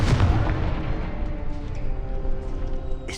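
Confringo spell blast in Hogwarts Legacy, a loud boom at the start that rolls off into a rumbling decay over about three seconds.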